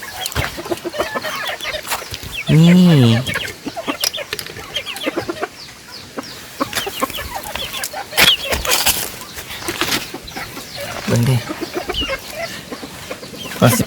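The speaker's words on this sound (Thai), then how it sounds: "เขากำลังสิเปิดตัวไก่" Chickens and a rooster cluck and squawk on a rice-field farm as they are let out of their coop, with loud calls amid rustling, and people talking throughout.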